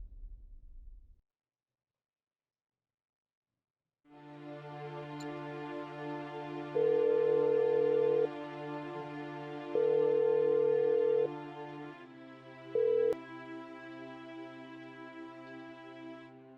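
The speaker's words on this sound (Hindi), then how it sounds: "The number you have dialed is currently busy." A telephone busy tone on a call: a steady electronic hum carries a sharper beep that repeats roughly every three seconds, the last one shorter, after a brief silence at the start.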